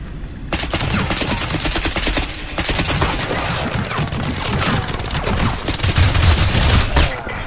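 Sustained automatic gunfire in the shooter game Crysis on Delta difficulty, rapid dense bursts filling nearly the whole stretch, loud and close with a brief pause just before the middle, heavier booming near the end.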